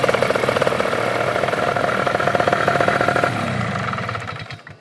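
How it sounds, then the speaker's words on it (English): Powered paraglider engine running steadily at about one-eighth throttle outdoors, a loud continuous droning buzz that holds even for several seconds before easing off and fading near the end. "1/8 throttle. You don't want to run the engine at full blast right away."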